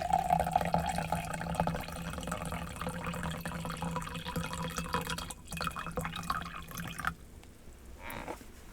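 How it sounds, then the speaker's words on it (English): Twinings raspberry tea from England is poured steadily into a cup, a continuous trickling stream that runs for several seconds before stopping. "Have to pour a little tea."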